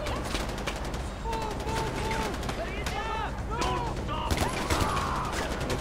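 Rapid gunfire fills a Far Cry 4 war-zone firefight, with dense overlapping shots and bursts, close and loud, alongside whistling and whining effects, with game music and voices underneath.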